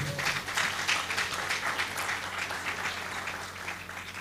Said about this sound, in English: That's a good place for an applause